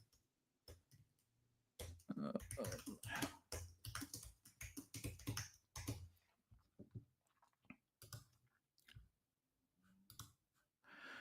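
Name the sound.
typing on a computer keyboard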